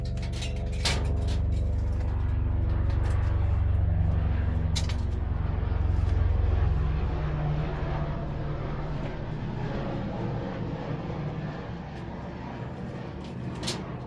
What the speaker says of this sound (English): There's an airplane coming looking for me